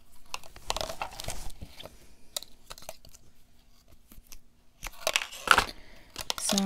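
Scissors cut string at a crafting table, giving a few close snips and rustling crinkles scattered across quiet gaps, louder near the end.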